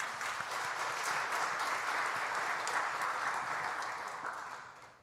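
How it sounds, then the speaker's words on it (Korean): A church congregation during a Sunday sermon breaks into a steady round of applause, an even wash of many hands clapping that holds throughout and fades slightly at the end. "하나님이 하셨다. 영광의 박수."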